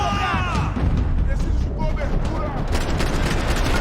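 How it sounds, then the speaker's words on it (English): Rapid bursts of gunshots ring out in the Max Payne 3 video game, loud and continuous, mixed with shouting voices and whizzing effects, with a sharper cluster of shots near the end. "I'm trying to shoot one guy."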